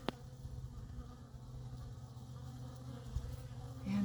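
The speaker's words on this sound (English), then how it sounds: "And you can see the bees happily gathering pollen from it." Honeybees gather pollen in winter, their soft continuous buzzing faint and steady at close range with no talking.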